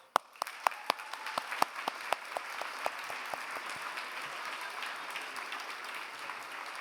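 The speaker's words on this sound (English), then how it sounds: "Can we have a huge round of applause?" Audience applause at a student leadership and alumni awards ceremony, beginning with a few sharp, distinct claps that quickly swell into steady, moderately quiet clapping from the crowd.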